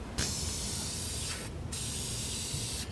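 A second coat of paint sprayed onto a car wing in steady aerosol hissing bursts, with two brief pauses between passes, close and loud.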